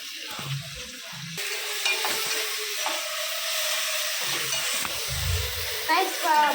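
Ginger and garlic fry in a pan for chicken curry, a steady close sizzle with stirring scrapes, while people talk intermittently over it.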